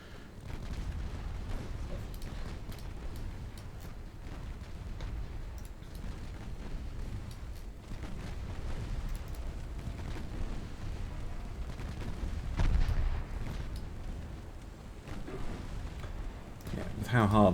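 Heavy 6-inch naval guns firing in a naval warfare game, a steady rumbling barrage of deep booms with one sharper, louder blast near the end and no voices.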